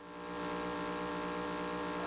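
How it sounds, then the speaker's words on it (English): A truck engine in a racing video game drones at a steady, sustained pitch after a quick rise, a constant mid-loud hum with no speech. "truck noise, truck engine noise here."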